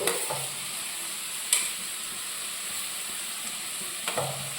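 Vegetable pieces with potato and green chili sauté for a stew, a steady close sizzle with a few sharp utensil knocks and stirring scrapes over it, no voices.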